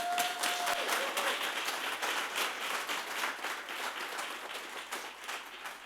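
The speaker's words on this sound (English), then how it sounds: "If you've not given them a round of applause" An audience at a town hall meeting gives a round of applause, dense and steady clapping that holds across the whole stretch and fades slightly toward the end.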